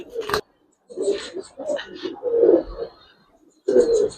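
Fancy coloured pigeons kept for sale cooing in short throaty bursts, close and clear, with brief pauses between calls and a sharp bang at the start.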